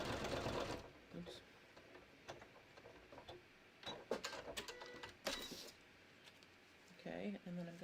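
A sewing machine stitches an appliqué onto handmade holiday cards, running in short bursts of rapid ticking needle strokes with pauses between them. It sounds close, with quiet talk heard during the pauses.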